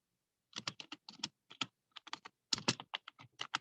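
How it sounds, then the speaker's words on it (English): Quick bursts of typing on a computer keyboard, close and crisp, with irregular clusters of key clicks separated by short pauses and no speech. "I'll just type it."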